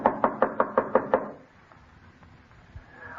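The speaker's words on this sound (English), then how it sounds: "it was out of order when I was here. I had to knock." Seven quick, evenly spaced knocks on a wooden door, crisp and fairly close, followed by near silence.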